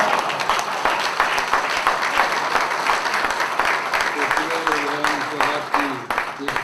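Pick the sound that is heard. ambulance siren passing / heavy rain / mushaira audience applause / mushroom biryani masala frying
mushaira audience applause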